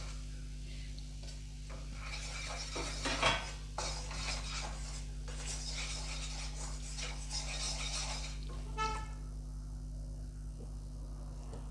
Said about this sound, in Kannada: ಅದು ಸ್ವಲ್ಪನೇ ಹಾಕ್ಕೊಂಡು ತಿರುಗಿಸ್ಕೊಂಡು ಬಿಡೋಣ